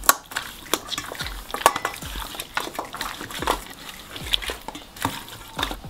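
Ribs tossed with sweet paprika, freshly ground black pepper and salt in a bowl, giving close, uneven wet squelches and soft knocks against the bowl in a loose rhythm, with no talk.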